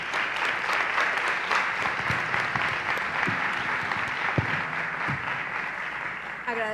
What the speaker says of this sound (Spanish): un aplauso para las personas expositoras